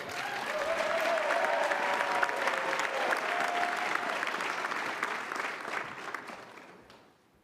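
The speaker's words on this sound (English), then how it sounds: "Yes, you can start clapping." At an awards ceremony for a STEM conference, a large audience claps loudly and continuously, with a low tone underneath, before the applause thins and fades away at the end.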